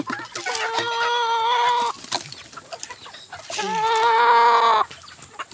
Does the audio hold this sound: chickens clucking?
yes